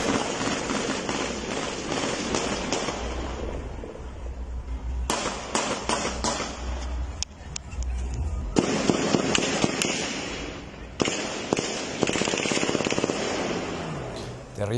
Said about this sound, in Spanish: Desde un automóvil, una persona graba con su celular mientras escuchan varios disparos.